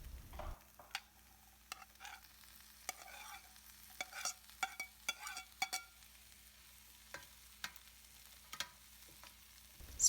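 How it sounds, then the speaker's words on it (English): Vegetables being stirred into an onion-tomato masala for veg biryani, quiet intermittent spoon scrapes and clinks against the pan over a faint sizzle, with no one talking. "Stir it very well so that all masalas will get mixed with the vegetables."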